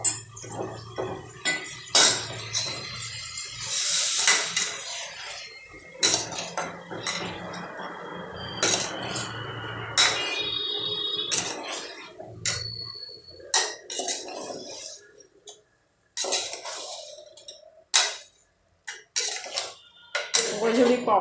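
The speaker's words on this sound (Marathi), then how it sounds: "आपण आता हलवून घेऊया." A spoon clinks and scrapes in a cooking pot while a spicy vajadi (tripe) curry is stirred, with irregular metallic knocks and a voice speaking intermittently over the kitchen sounds.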